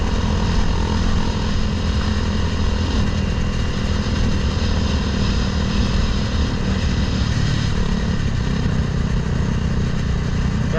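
A Honda Grom mini bike fitted with a swapped-in CBR300R engine runs loud and steady while riding, its engine drone continuous beneath heavy wind rush, with no speech.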